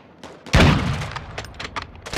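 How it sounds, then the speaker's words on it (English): A cruise missile explosion in Call of Duty: Modern Warfare II, a loud sudden boom that rumbles and decays, followed by scattered smaller blasts and another burst at the end. "Friendly cruise missile approaching target."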